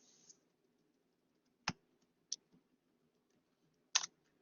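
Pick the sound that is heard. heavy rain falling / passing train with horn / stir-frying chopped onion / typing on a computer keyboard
typing on a computer keyboard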